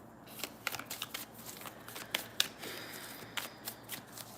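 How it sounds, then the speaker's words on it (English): Playing cards riffled and bridged by hand in a quiet room, a run of crisp papery flutters and soft taps coming in short bursts, close and fairly quiet, with no talking. "We'll do the standard shuffle and move on"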